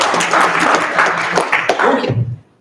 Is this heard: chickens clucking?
no